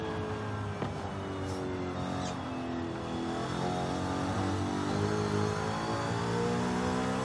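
A 1990s Alfa Romeo 155 race car engine in the video game Forza Horizon 5 revs and accelerates steadily, a loud, continuous mid-pitched drone with climbing gear sweeps and no talk.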